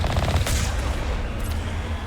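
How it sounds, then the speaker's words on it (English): Gunfire in Mass Effect, a quick rattling burst of automatic shots up front that thins into scattered cracks and echo, fairly loud and close. "They're shooting me with bullets."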